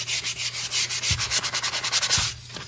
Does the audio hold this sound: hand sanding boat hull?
yes